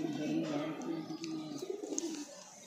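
Breeding male pigeons coo in low, rolling repeated calls, close and fairly loud, with a few faint chirps and a voice talking alongside.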